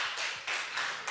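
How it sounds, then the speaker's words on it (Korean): A congregation at a Korean Sunday worship service claps in short, pulsing group bursts that repeat in a regular rhythm, fairly soft and roomy, with no talking over it. "공감의 박수."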